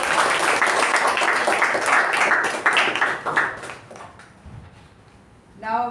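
A Toastmasters meeting audience claps in a lively round of applause, many hands at once and fairly close, which thins into scattered claps and fades to near silence.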